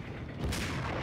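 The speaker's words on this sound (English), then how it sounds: "Let's try sniper rifle." One heavy sniper rifle shot goes off in Max Payne, a sudden loud boom that fades into a short rumbling tail.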